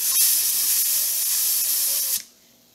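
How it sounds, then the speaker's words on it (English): A sharp, continuous hiss of a compressed air duster spraying a yo-yo bearing sprays steadily for about two seconds, then cuts off abruptly, leaving near silence. "Take a can of dust off and spray the bearing."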